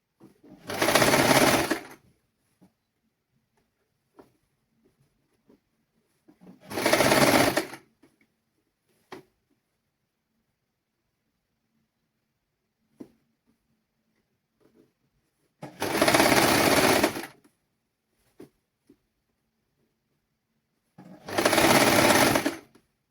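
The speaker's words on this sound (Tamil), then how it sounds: "நோட் போட்டுட்டு நாங்கள் சுற்றி வரை தைச்சிட்டு பார்க்கலாம்" A sewing machine stitching around a children's garment during a basic tailoring lesson runs in four loud, steady bursts of a few seconds each, separated by quiet pauses.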